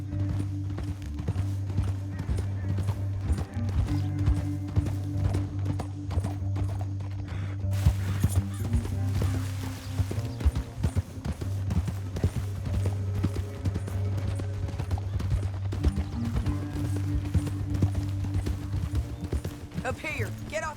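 Horse hooves clip-clopping at a steady rhythm in Red Dead Redemption 2, running under a low music bed and outdoor ambience, with voices talking over parts of it.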